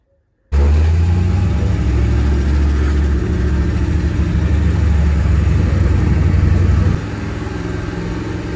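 A 1964 Ford Falcon engine revs loudly and steadily as the car pulls away, a deep continuous rumble that eases slightly near the end, with no talking.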